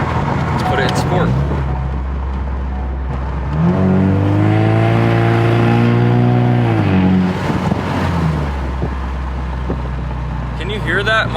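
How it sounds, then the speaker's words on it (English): A car's engine held at a steady idle-like drone, then revved in sport mode so the pitch climbs, holds and falls back over several seconds before settling again, close and loud throughout. "Can you hear that? My car doesn't sound the same"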